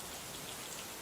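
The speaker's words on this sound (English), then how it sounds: "Rain falls in slow, heavy drops that make the streetlights blur into halos." Steady rain hisses down on an outdoor street surface at night in Lagos, a dense, even wash of drops with no voices, soft and continuous.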